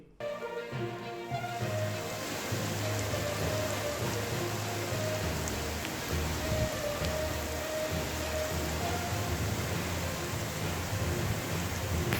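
Heavy rain falls on flooded Hyderabad streets as a steady, dense hiss that runs unbroken for the whole stretch, with a low background rumble underneath and no voices.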